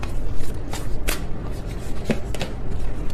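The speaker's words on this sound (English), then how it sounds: "That was a sloppy shuffle." Tarot cards being shuffled by hand in a loose, sloppy shuffle: a series of sharp papery riffles and slaps, irregularly spaced and close up, with no talking.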